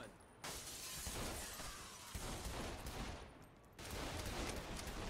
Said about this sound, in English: Oh, we're shooting?